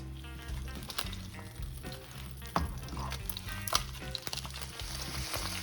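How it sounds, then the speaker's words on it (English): Roast meat sears in a hot pan, giving a continuous crackling sizzle with sharp pops and spits, while a low rhythmic hum runs underneath throughout. "Grab your roast meat and I'm gonna sear it on all sides."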